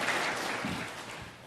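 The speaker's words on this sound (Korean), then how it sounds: "여러분 박수로 환영해 주시기 바랍니다." Church congregation applauding at a Sunday service to welcome first-time attendees, a short burst of steady clapping that fades out, no talk.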